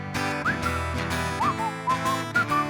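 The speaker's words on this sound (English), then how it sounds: "Purse your lips and whistle, that's the thing." A performer whistles a bright, sliding melody over strummed acoustic accompaniment during a live acoustic song in a theatre, the whistled phrases rising and falling in short runs, loud and close.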